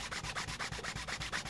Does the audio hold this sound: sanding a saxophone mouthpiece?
yes